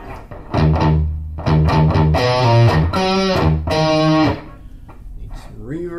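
Electric guitar played through a Boss Katana amp with digital delay, loud distorted phrases of short notes and sustained chords, with repeats trailing after the playing stops.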